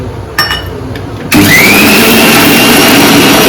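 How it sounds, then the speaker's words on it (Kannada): A mixer grinder grinding ginger and curry leaves into paste starts abruptly after a few soft clicks and runs at a loud, steady high-pitched whir with a rising motor whine. "ಚೆನ್ನಾಗಿ ರುಬ್ಕೋಬೇಕು ನೈಸಾಗಿ"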